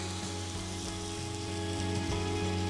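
Capsicum and potato pieces sizzling in a hot pan for pav bhaji, a steady close crackling hiss with a faint background hum.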